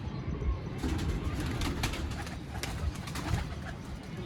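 Pigeons coo softly in a low, steady murmur against constant background noise, with a few faint higher chirps scattered through.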